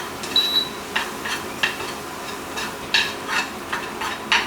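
Eggs stirred and fried in a hot pot, a steady sizzle punctuated by repeated sharp scrapes and clinks of a utensil against metal at an irregular pace, close and clear with no talking.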